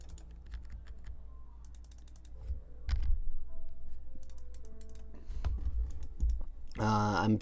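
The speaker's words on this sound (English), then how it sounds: "I literally have been clicking." A computer mouse is clicked repeatedly in quick, irregular bursts of sharp, close clicks while playing the PC game Empires of the Undergrowth, with faint game sounds in the background.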